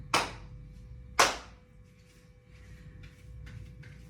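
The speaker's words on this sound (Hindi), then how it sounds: "अब हम यही ताली स्टार जंप के साथ बजाएंगे" Two sharp, close hand claps about a second apart during an exercise session, followed by quieter faint rustles and taps.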